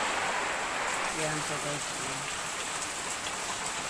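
Heavy rain pours steadily during Typhoon Ulysses in the dark early morning, a dense constant hiss with wind, while a person speaks briefly over it.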